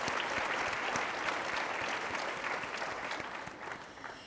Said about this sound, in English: I do think there are people that want to applaud the fact that there's an announcement coming